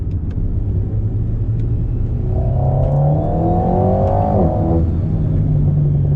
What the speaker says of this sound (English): Nice little noise there, burble on the exhaust.